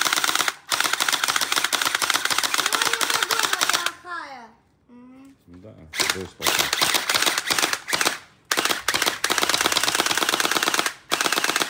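A toy gel ball blaster styled as an M416 rifle fires long, rapid automatic bursts that sound sharp and close. Short pauses break up the firing, and a voice talks briefly during one gap.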